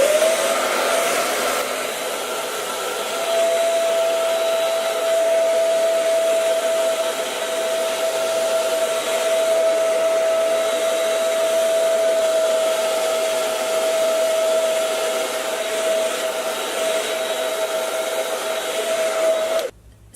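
Hair dryer on a cool setting blowing steadily and loudly for about twenty seconds while drying milk of magnesia on a face, a constant whirring hum with a steady tone, cutting off abruptly at the end.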